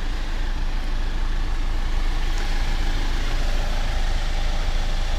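2019 Jeep Wrangler Unlimited Rubicon with eTorque engine idling, a steady, even low hum with no revving, close and constant throughout.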